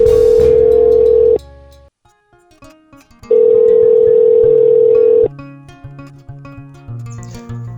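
Telephone dial tone after dialing a number, two loud steady tones separated by a short pause, with soft background music continuing after them.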